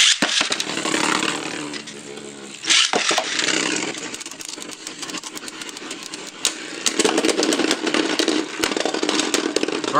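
Beyblade Burst spinning tops, Spriggan Requiem in left spin, launched and clashing in a plastic stadium, giving a loud continuous whirring grind with sharp metallic impacts and a brief pause before the rattling resumes.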